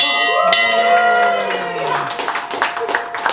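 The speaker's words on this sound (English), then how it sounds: "I rang the bell and I closed the bar for the evening." A bell rung inside a bar in Ireland, one bright strike whose ringing tone holds and fades over several seconds, mixed with clapping, cheering and lively voices.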